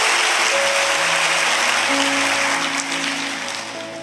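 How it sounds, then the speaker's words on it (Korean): A church congregation claps at a Sunday baptism service, a loud, dense wash of applause that holds steady and then tapers slightly toward the end, with faint sustained organ or keyboard tones underneath. "박수로 여러분들 격려해 주십시오."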